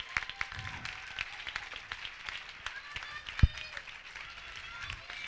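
An audience applauds the judges at the opening of the Miss Pole Dance Argentina and South America 2012 competition. The clapping is faint and scattered, with crowd murmur and a voice over it.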